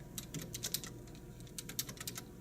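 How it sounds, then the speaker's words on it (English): Typing on a computer keyboard at a point-of-sale terminal, two quick bursts of soft key clicks at a steady rhythm, close and quiet with no talk. "So just type stylist"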